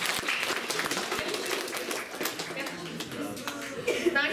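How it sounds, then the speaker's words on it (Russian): An audience at a stage contest applauds a performer named Varvara, brisk scattered clapping at moderate volume mixed with crowd murmur and a few voices, with some light chuckling. "Аплодисменты Варваре"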